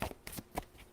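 A tarot card deck is shuffled by hand in quick, soft riffling bursts, several brief papery flutters close up and fairly quiet, with no talking over them.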